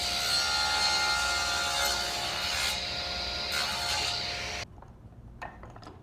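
A table saw cuts angled passes through wood, the blade whining steadily and loudly for about four and a half seconds before cutting off, leaving a quiet spin-down with faint knocks.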